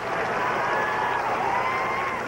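A high school football crowd at Lakewood versus St. Ed's in 1983 breaks into applause over a penalty call, a loud, dense and continuous patter of clapping from the stands.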